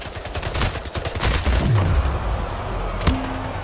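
Gunfire from the video game Splitgate: dense, rapid bursts of shots rattling continuously through the whole stretch, loud and close, with a sharp single crack near the end and no talk over it.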